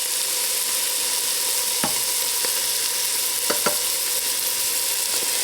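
Meat sauce with coriander sizzles steadily in a pan, a constant close frying hiss broken by a few sharp clicks of a utensil stirring against the pan.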